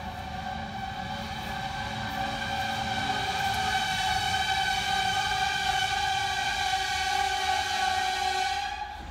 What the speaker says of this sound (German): Tut mir leid, kam gerade ein Zug.